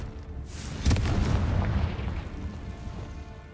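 A Confringo fire spell blasting in the Hogwarts Legacy video game: a single sharp, loud explosion that swells into a rumbling roar and slowly fades away.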